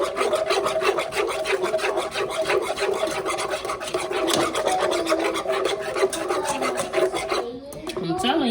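A whisk scrapes and rasps steadily around a pot of vegan butter roux for gumbo, a continuous close scratching texture that runs nearly throughout before easing off near the end.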